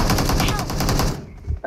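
Rapid automatic gunfire in the BGMI mobile battle royale game, a loud close burst of repeated shots that cuts off after about a second.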